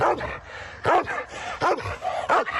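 An excited dog yips and barks in short bursts of about five, with whimpering between them, close and fairly loud, as it waits for its morning walk in a Kyiv city forest.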